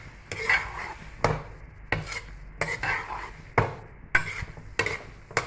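A spoon stirs chicken macaroni pasta in a pan, giving close, repeated scraping strokes in an uneven rhythm about once a second, with no talking.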